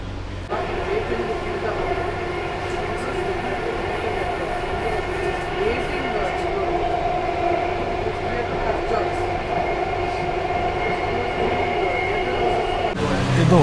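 A driverless metro train on the Bengaluru Yellow Line rolls along in a steady, loud onboard rumble with a sustained electric whine, continuous for the whole stretch and briefly swelling at the end.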